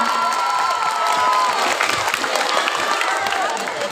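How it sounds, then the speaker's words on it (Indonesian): A school crowd of students at a high school extracurricular showcase applauds the performers, dense clapping mixed with cheers and children's shouts, loud and sustained throughout. "Boleh nggak kasih tepuk tangan sekali lagi buat kakak-kakaknya?"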